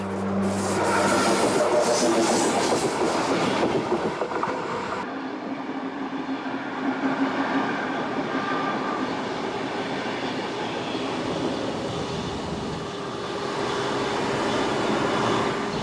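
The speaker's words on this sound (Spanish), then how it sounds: "El paso del tren por lugares así tiene algo especial," A train rolls through mountain country with a loud, continuous rumble and a grinding rail rub close by, shifting to a steadier, slightly muffled roar partway through, and no voices.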